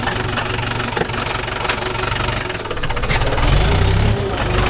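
Mahindra 575 DI diesel tractor engine running steadily up close, a loud low knocking throb with a slight rise in revs near the end, no talk.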